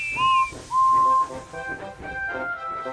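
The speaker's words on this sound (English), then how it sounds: "Hello, Emily, whistled Whiff cheerfully." Whistling from a cartoon steam engine in a children's toy-train story, rising in two sustained tones, then softer warbling whistle notes continuing over background music.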